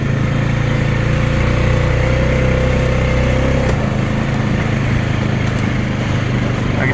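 A 2020 Honda Rubicon 520 Deluxe ATV rides a trail in two-wheel drive, its engine holding a loud, steady mid-pitched drone close up with a slight change in tone halfway through.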